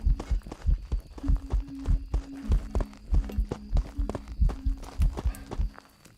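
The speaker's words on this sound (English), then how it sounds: "Did you hear the increase of the footsteps?" A ghost's heavy footsteps in the Phasmophobia horror game thud steadily and close, a low pulsing tone humming beneath the repeated stomps.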